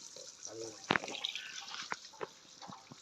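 Shower water sprays onto a puppy during a bath, a soft hiss with splashes and drips, while a person talks nearby.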